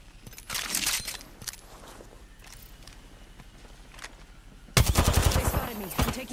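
Bursts of automatic weapon fire in the Apex Legends battle royale game, a loud rapid volley near the end after scattered quieter shots and game noises, with a player talking at times.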